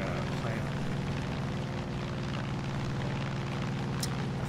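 Aircraft flying in Far Cry 5, a steady loud engine and wind roar droning continuously with no breaks, a faint short click near the end.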